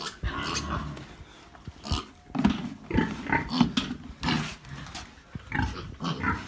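A 16-day-old piglet squeals and grunts in repeated bursts while being weighed, close by and fairly loud, with scuffling in between.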